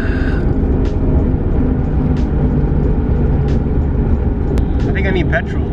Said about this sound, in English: There's a lot of sounds coming from this car, like it's making a lot of noise.